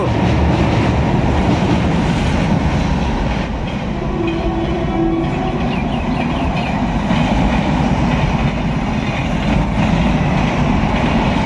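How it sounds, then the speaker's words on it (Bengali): Local train on an overhead line at a railway station under modernisation work, with an express train entering below; a continuous loud rumble of rolling wagons and wheels runs throughout, without a clear horn. "ওপর থেকে চলে গেল একদম আরামবাগ লোকাল এবং এদিক থেকে এক্সপ্রেস ট্রেন ঢুকছে"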